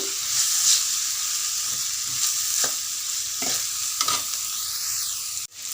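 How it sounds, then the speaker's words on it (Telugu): Onions and ginger-garlic paste sizzle steadily in a pan for okra kurma, with repeated stirring scrapes close by and no talk, before the sound cuts off abruptly at the end. "అల్లం పేస్టు ఉల్లిపాయలు మరీ ఎక్కువ వేగన అవసరం లేదు మెత్తబడ్డ సరిపోతుంది"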